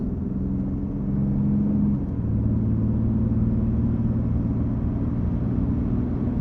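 A car speeds along with a loud, steady engine rumble and whir, the pitch stepping down briefly before holding a constant drive, no voices over it.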